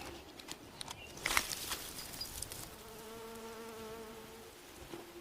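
A single bee buzzing in hot open country where meerkats forage, a steady droning hum that rises in the middle and then drones on for a few seconds, faint and close against quiet background rustles.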